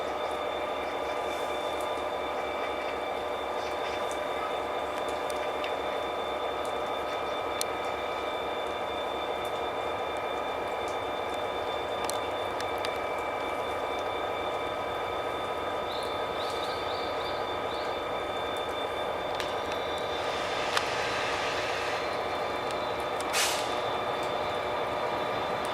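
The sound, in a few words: Mugunghwa train arriving at Cheonan station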